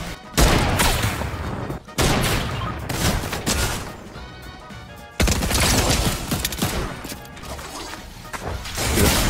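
Gunfire in Fortnite Zero Build: loud bursts of shots and crashing impacts, split by short gaps, hit in rapid succession through the stretch.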